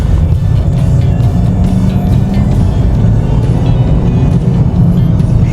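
A 2007 BMW E90 318i pulls hard under acceleration, its engine a loud, steady low drone with road rumble heard from inside the car, unbroken for several seconds with no talking.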